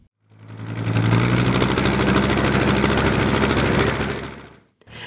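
A Hungarian Dutra D4K four-wheel-drive tractor's big diesel engine runs loud and close at a vintage vehicle meet, a rough, throbbing rumble that swells in, holds steady for several seconds, then cuts away.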